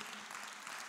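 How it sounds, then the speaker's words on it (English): A church congregation claps their hands in praise, a brief, dense burst of applause from many people at once. "Somebody give God a hand clap of praise."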